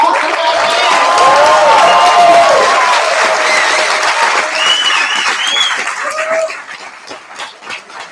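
An audience at a final presentations event in Oslo claps and cheers loudly and steadily, a dense sustained wash of applause with whoops that gradually thins and tapers off toward the end.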